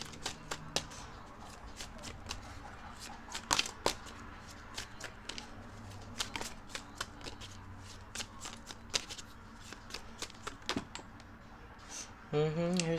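A tarot deck is shuffled for a reading, a fast run of papery riffles and snaps, close and quiet, with brief louder flurries and a rustle near the end.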